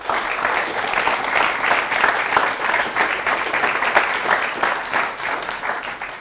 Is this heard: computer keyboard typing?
no